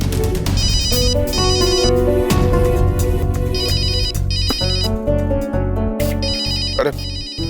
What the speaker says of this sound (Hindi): अरे अमृता का फोन है